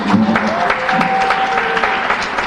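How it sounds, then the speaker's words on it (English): Steady applause from an audience at a fintech summit, dense continuous clapping throughout with a faint tone drifting underneath. "Please clap for the good English."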